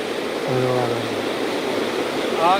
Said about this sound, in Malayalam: ഇവിടെ ഇങ്ങനെ വെള്ളം ഇങ്ങനെ കുത്തി ഒലിക്കുന്നുണ്ടെന്നൊക്കെ കാണാം